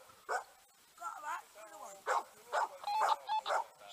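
A dog on an estate in Montebello Estense barks and yips in a quick run of sharp, close barks, mixed with whimpering sounds and overlapping human voices.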